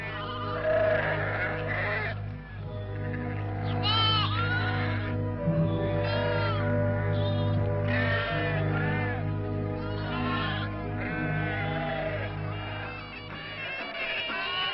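Sheep bleating over and over in a flock, overlapping calls from many animals, fairly close against a constant low hum, with no talk.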